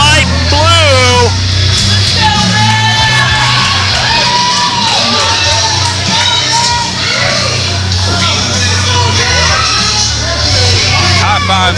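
Wrestling audience at a PCW Limelight show roaring and cheering loudly and continuously, with high whoops, shouts and children's yells rising and falling over a dense crowd din.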